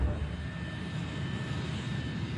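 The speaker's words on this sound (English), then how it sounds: "And Flight 587 begins to taxi to runway 31L" A jet airliner taxiing toward the runway on a fine day gives a steady, continuous engine roar with a faint high whine, holding even through the whole stretch with no voices.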